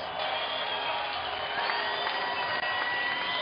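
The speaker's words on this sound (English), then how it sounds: "how about a big round of applause for these two valiant" Crowd at a boxing match between Andrey Klimov and John Molina Jr. applauding and cheering after the bout, a dense steady roar of clapping and whoops from a large arena audience.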